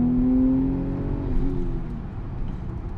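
An Audi B5 S4 with a Tiptronic automatic transmission accelerating at wide open throttle, its engine droning loud and close with rising tones and a steady roar throughout.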